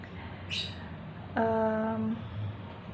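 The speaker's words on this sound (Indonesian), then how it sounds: "berisik banget suara binatang, karena di rumah aku banyak burung guys" Pet birds call inside a house: a short high chirp, then a clear sustained harmonic call lasting under a second, close and moderately loud over quiet room noise.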